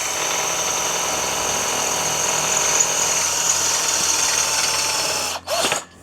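A DCA ADJZ1202 12V cordless three-mode drill runs continuously with a steady high whine, close and loud, then briefly cuts out and revs again near the end, with no talking.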